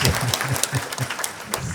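Audience clapping at a public talk event, steady dense applause from a crowd, near and moderately loud, continuing without speech.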